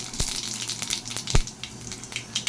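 Panch phoron spices hitting hot oil in a pan beside fried lentil dumplings, giving crackly sizzling with a few sharp pops over a short stretch, no voices.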